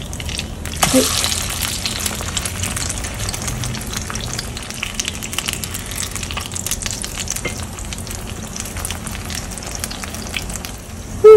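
Steady oily sizzling of an oyster pancake half shallow-frying in a pan fills the clip, with occasional scraping and clinks of a spatula, a brief louder spike near the start.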